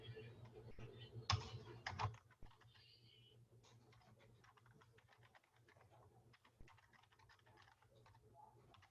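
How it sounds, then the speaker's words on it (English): Light typing on a computer keyboard, with a louder cluster of clicks early on and then soft, steady key taps continuing quietly in a calm indoor space. "I hope I typed the right thing."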